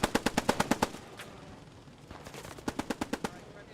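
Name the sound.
machine gun tracer fire in Post Scriptum video game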